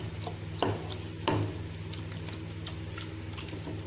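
Canned tuna is stirred into a frying onion-tomato masala, with a soft continuous sizzle and a couple of heavier spoon scrapes early on, then lighter stirring.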